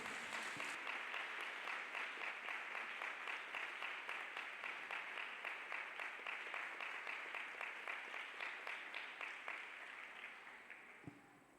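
Church congregation clapping hands together in a fairly even, rhythmic beat, a full room of claps sustained for about ten seconds before trailing off, recorded at low level.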